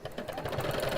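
A sewing machine stitches fabric in a brief, steady mechanical whirr with a fast rhythmic chatter, heard close and alone.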